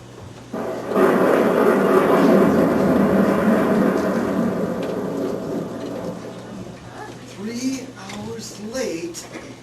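A thunderstorm with heavy rain roars in a sustained rumbling wash, loud and close, then eases as voices begin talking over the fading downpour.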